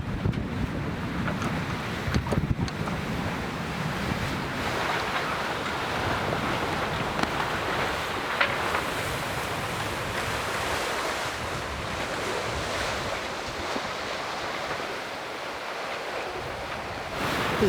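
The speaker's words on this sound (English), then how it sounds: "The waves are still a bit short and choppy" Choppy ocean waves wash steadily around a sailboat under sail with the screecher set, while strong wind buffets the microphone throughout, a constant loud roar with no voices.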